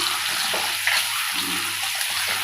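Eggs fry in hot oil seasoned with half a spoon of chili powder, giving a steady close hiss and spatter with faint pops and no voices.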